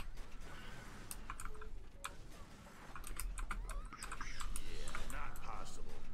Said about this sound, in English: This is why I hate this keyboard. Like, listen to how noisy it is.